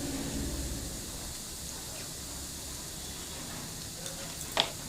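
A vegetable mixture with green chillies and salt sizzles quietly in a frying pan while being stirred, giving a steady soft hiss with a brief scrape of the spoon near the end.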